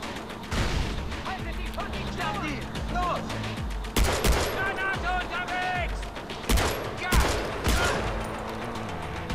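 Gunfire rings out in Far Cry 4, with repeated sharp shots and loud cracks over busy game ambience and someone speaking during the firefight.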